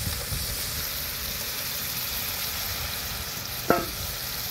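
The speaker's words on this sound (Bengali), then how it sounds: "লবণ, মশলার উপরে তেলে শুটকি মাছটা দিয়ে দিই" Dried fish sizzles steadily in hot oil over salt and spices, a constant close frying hiss with one brief sharper crackle near the end and no voices.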